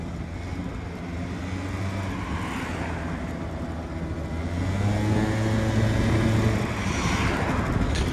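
A Honda Tact AF-51 scooter's small engine drones steadily as it accelerates toward top speed, the whine rising and growing louder partway through, with wind noise and no talking.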